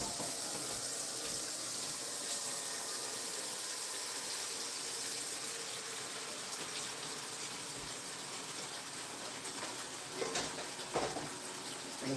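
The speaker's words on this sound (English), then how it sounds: "A soap bucket with hot water." Hot tap water runs steadily into a soap bucket in a kitchen, filling it a little over half full with a continuous close rushing gush and no talk.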